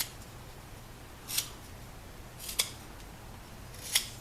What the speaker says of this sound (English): what I do is I just cut across grain like that